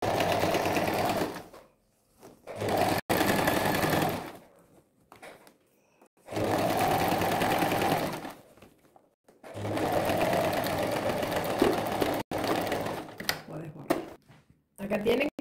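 A sewing machine stitches a zipper flap in bursts of rapid mechanical rattling, several runs of a few seconds each separated by pauses, close and fairly loud, with someone speaking Spanish between and over the stitching.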